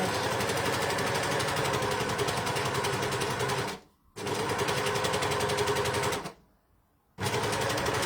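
A sewing machine runs a tiny rolled-hem stitch along bunting fabric, whirring loud and steady at close range, with two short pauses where it stops before starting again.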